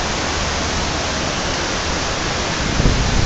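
Heavy rain pours down in Dhaka as a dense, steady roar of water on surfaces, loud and continuous throughout, swelling slightly near the end.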